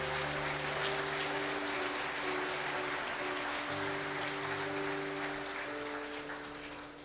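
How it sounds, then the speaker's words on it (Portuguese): A church congregation applauds during a family worship service, a steady dense wash of clapping that holds for several seconds against a sustained musical drone, then gradually thins and fades. "Aplauda o Senhor Jesus por isso."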